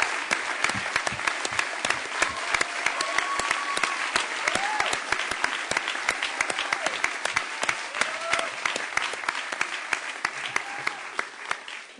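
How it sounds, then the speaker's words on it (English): Steady, sustained applause from a large audience honoring teachers at a back-to-school education event, dense clapping that fills the room for about twelve seconds before tapering slightly at the end. "let's give them a huge round of applause"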